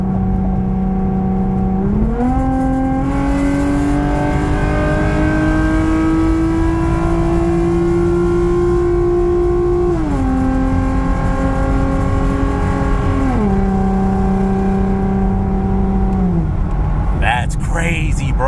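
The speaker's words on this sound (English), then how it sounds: "All right, downshifting again." A Lexus IS 250 fitted with a carbon intake pulls steadily through the gears, its engine tone climbing in long rising sweeps broken by shifts, loud and close inside the cabin throughout.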